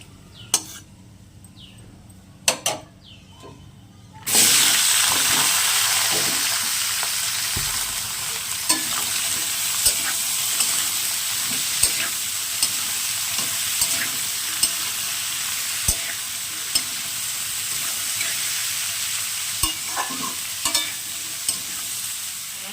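A chorchori mixed-vegetable curry, tempered with nigella seeds and dried red chili, bursts into a loud steady sizzle in a pan after a few quiet seconds, punctuated by regular clicks and scrapes of stirring. No one speaks.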